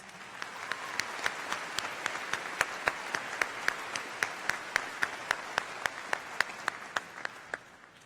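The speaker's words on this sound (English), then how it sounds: "Let's give them another round of applause." A high school graduation audience gives a round of applause. A bed of crowd clapping runs throughout, with a sharp, evenly spaced rhythmic clap standing out above it and fading slightly at the end.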